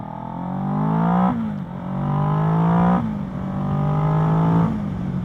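A Kawasaki Ninja 650 motorcycle engine accelerates through the gears, its loud, close whine rising in pitch three times with brief dips at each shift, heard without talk.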